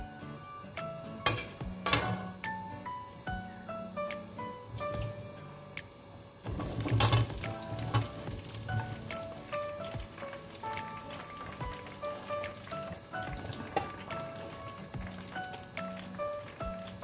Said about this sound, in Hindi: थोड़ा थोड़ा करके फ्राई करना पड़ेगा।